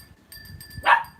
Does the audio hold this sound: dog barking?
yes